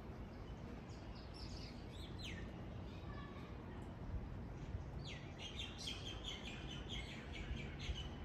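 Small birds chirp and tweet in scattered bursts near an open window at a home where they are fed crumbs, crackers, seeds and raisins, under a steady hiss of background noise.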